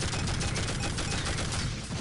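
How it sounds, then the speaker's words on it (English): Heavy gunfire from enemy heavies bombarding the player in the video game Tribes: Vengeance, a dense, continuous barrage of loud blasts and rumbling that fills the whole two seconds with no talking. "Keep an eye on my health because there's heavies around bombarding us."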